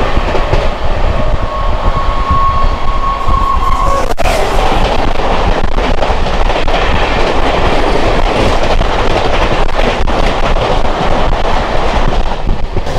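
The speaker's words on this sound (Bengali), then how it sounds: "এবার আসছে train number 12314, new Delhi Sealdah রাজধানী এক্সপ্রেস" A New Delhi–Sealdah Rajdhani Express train rushes past at a station, a loud continuous roar of wheels and rolling coaches with rhythmic clatter, sustained near and steady throughout.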